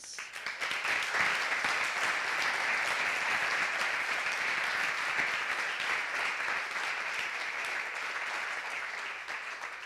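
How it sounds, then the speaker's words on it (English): Audience at an architecture symposium applauding, a steady, full wash of many hands clapping sustained for around ten seconds, moderately distant in a large room, easing slightly toward the end. "That is an applause,"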